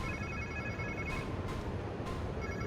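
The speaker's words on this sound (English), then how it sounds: "Sounds like somebody's phone." A phone rings in the Spider-Man 2 video game, its electronic trill repeating in short bursts over a steady hum of game ambience, moderately loud and with no talking.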